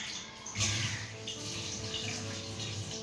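Water runs steadily from a tap for a bath, a soft, even rush at moderate distance with a brief louder splash early on and a faint steady hum underneath.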